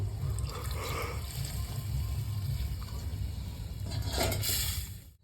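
Water pours into a pan of potato and eggplant fish curry, a continuous close splashing trickle lasting about five seconds before it stops abruptly.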